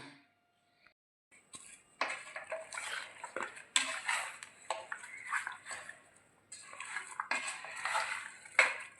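Raw chicken pieces mixed by hand with chili powder and turmeric powder in a bowl, giving close, intermittent squelching and clinking against the dish after a quiet start.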